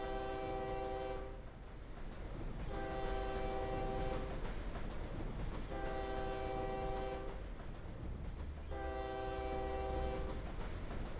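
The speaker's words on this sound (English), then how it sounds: "The horn must be blown It's not 4 supposed to be times like this. after the whistle sign" Train horn in a train simulator video game blows four steady, loud blasts of a couple of seconds each, evenly spaced over constant rumbling rail noise.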